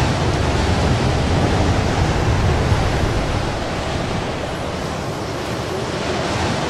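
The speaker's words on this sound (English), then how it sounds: "It's so windy!" Strong wind in the game Dark Souls 3 roars steadily and loudly, a broad rushing noise with no pauses, easing slightly toward the end.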